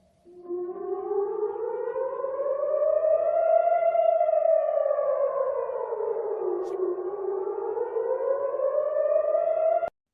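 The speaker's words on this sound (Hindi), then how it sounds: "रॉकेट या बम गिरने के खतरे की चेतावनी देने वाले सायरन की आवाज बहुत ही विशिष्ट होती है" A civil defense rocket attack warning siren wails steadily, its pitch slowly rising and falling in long sweeps, loud and alone with nothing else audible.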